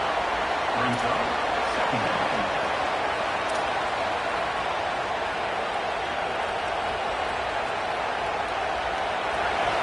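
A stadium crowd at a football game keeps up a constant, roaring wash of noise for ten seconds, with an announcer talking over it.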